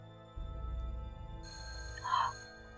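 A telephone rings with an electronic bell tone that starts abruptly after a brief pause and holds steady, with a brighter burst near the end, fairly loud and clear with no voices.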